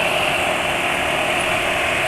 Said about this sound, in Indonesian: suara mesinnya kasar